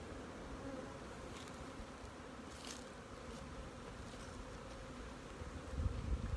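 Constant busy buzzing of many honeybees swarming around hives nearby in the fall, a dense even drone with no voices.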